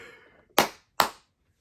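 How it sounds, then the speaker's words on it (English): Two sharp, close hand claps about half a second apart, crisp and fairly soft, after a brief bit of quiet room noise. "Those are some weak claps"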